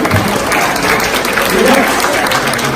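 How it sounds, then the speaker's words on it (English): Seminar audience giving a loud, sustained round of applause, dense clapping close and continuous throughout. "Please give your partner a round of applause for sharing"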